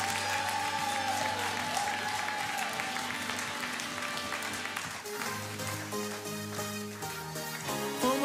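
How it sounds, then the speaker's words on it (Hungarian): A church congregation applauds during a live Hungarian worship service, with dense, sustained clapping mixed with musical tones from the band, steady and loud throughout. "Adj az Úrnak egy nagyon nagy tapsot!"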